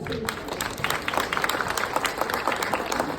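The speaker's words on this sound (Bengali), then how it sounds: "পরিচালকের জন্য একটা জোরে হাততালি হোক।" Loud, sustained applause from a premiere audience for the director of the film Madam Sengupta, dense clapping with a few sharper claps standing out.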